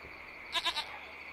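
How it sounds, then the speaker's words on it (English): Small goat in a village in the video game Lost Horizon bleating from under a hut, a single short wavering bleat of three quick pulses, fairly clear against a quiet ambient hum. "It's a small goat. It appears to be hiding underneath the hut."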